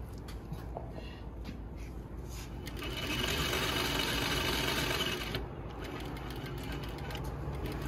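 A Juki DDL-8700 industrial sewing machine stitches steadily and close by, with a dense mechanical whir that grows louder for a few seconds mid-stretch and then settles back to its earlier level. No one speaks.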